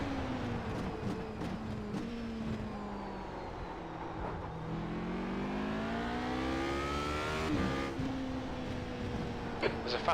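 Race cars in the iRacing sim roaring past one after another, engine tones sweeping up and down in pitch as each passes close by, with a steady engine drone between them.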